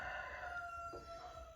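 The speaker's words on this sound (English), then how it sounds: "Yes, Rooster, it's good morning." Faint rooster crowing in the background of a garage or yard, a single drawn-out call at a distance under a steady low hum.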